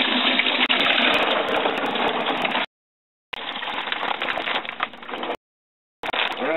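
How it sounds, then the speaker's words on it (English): Homebrew wort pours from a bag into a boiling pot, a continuous loud gushing splash of liquid broken by two short silent gaps. "I'm just going to take the bag of wort and pour it in."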